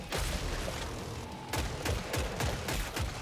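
Magnum revolver shots in the game Killing Floor 3, several sharp booming reports fired in quick succession, the later ones coming in a rapid, evenly spaced burst, close and loud with no talk.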